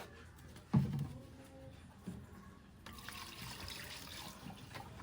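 Water poured into a pot while preparing a sauce at home, a faint steady trickle and splash after a soft knock, fairly quiet and distant in a room.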